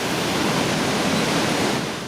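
Pailón del Diablo, a gigantic waterfall in Ecuador, roars in a steady, dense broadband rush heard from a platform right beside it, loud and unbroken with no voices.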